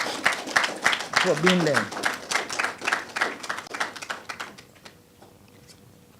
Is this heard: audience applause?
yes